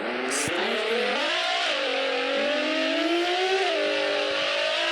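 A video game car engine whines steadily, its pitch climbing and dipping as it accelerates, loud and constant throughout.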